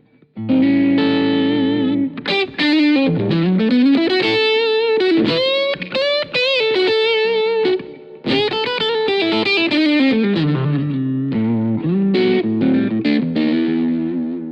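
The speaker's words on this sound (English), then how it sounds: "So the sound I'm playing for at the moment is based on a Marshall Blues Breaker" A lightly overdriven electric guitar through a Yamaha THR amp's Marshall Bluesbreaker model plays expressive bluesy lead phrases with bends and slides, loud and upfront with a touch of reverb.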